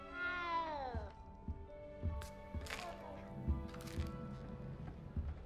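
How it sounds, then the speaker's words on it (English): A cat meows in the video game Hogwarts Legacy, with one long, drawn-out falling meow near the start followed by softer cat sounds over steady game ambience. "You don't need to be frightened, little cat."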